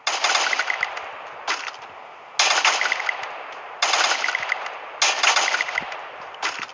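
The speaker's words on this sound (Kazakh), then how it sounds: "Арттан атып отыр." Automatic gunfire in the Free Fire mobile battle royale game, loud sustained bursts of rapid shots repeating in four or five volleys with short gaps between them, close and without speech over them.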